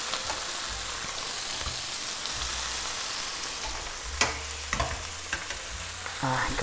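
Young cabbage fries in a pan with a bright, steady sizzle, broken by a few sharp clicks and scrapes as the pieces are moved about.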